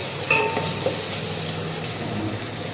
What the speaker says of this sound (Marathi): चिकनला मस्तपैकी फोडणी वगैरे दिली.